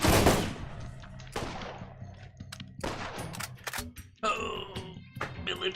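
Rapid automatic gunfire in the Borderlands shooter, with several bursts of broadband shots that come and go in clusters, close and fairly loud, while a voice groans or talks over parts of it.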